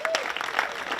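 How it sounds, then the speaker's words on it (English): A brief burst of audience applause at an obstacle course racing world final, honoring the women's field: steady crowd clapping with a voice briefly audible at the start. "give a massive round of applause"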